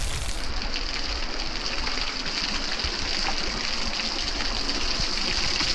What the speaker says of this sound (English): A lot of water dumping in here.